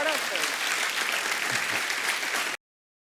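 Audience applause at a film star-cast show, loud dense clapping for about two and a half seconds, then cut off abruptly.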